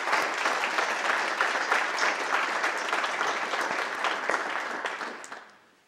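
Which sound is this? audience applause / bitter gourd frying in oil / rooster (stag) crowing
audience applause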